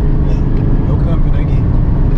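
A Chevrolet Silverado 2500 HD pickup truck accelerates with a loud, dense, rumbling engine roar heard from inside the cab, steady throughout, with someone talking over it.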